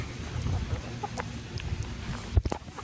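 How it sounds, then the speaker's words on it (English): Backyard chickens clucking softly near the recorder, scattered short low clucks and murmurs spread through the quiet, with one sharper louder call near the end. "I am taping chickens."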